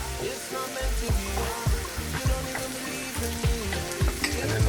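Onions and green peppers fry in a hot pan, a dense steady sizzle broken by regular clattering stirs, close and fairly loud with no talking.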